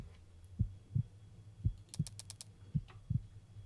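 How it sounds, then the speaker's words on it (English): A heartbeat in a video game thumps low and steady in paired beats, faint and close, with a brief clicking flutter partway through. "do you guys hear the heartbeat?"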